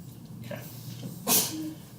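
A single sharp sneeze bursts out at moderate distance in a quiet classroom, brief and breathy, following a faint intake of breath.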